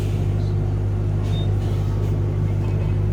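Low steady rumble and engine drone inside a moving bus in Macau, with a constant hum and faint rattles and clicks, no one talking.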